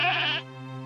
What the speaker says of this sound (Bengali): রাজ্জাক জোরে ছাগলের দড়িটা টেনে ধরতেই ছাগলটার পা ভেঙে যায়।